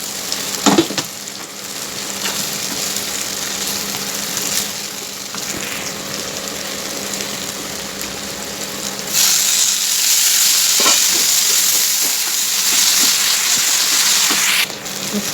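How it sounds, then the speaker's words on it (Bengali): Fried papad tossed with boiled potatoes in a hot pan gives a steady sizzle with scraping stirs, growing louder and brighter partway through, with a few sharp utensil knocks; no one speaks. "এখন ভেজে রাখা পাপড়গুলি দিয়ে দেবো"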